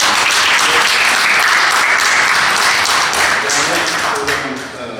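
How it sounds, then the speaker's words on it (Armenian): Sustained, dense applause from a crowd, loud and steady throughout before tapering slightly at the end. "Եվ կցանկանայի, որպեսզի բոլորդ ծափահարեք"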